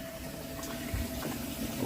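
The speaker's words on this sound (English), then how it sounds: "That's the water going in now." Water runs into a van's tank with a faint, steady gurgling fill and a low background hum, with no talking.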